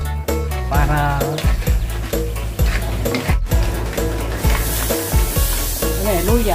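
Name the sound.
crab sizzling while frying in a pan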